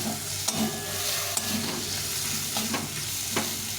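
Ridge gourd fries with poppy seed paste in a pan, giving a steady close sizzle with soft crackle and a few light utensil taps and scrapes, no voices.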